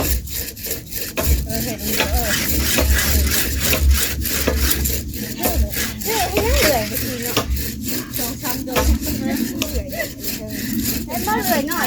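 A hand saw cuts through wood during construction of a small wooden hut, with steady rasping back-and-forth strokes repeating at an even rhythm, close and loud, with occasional voices in the background.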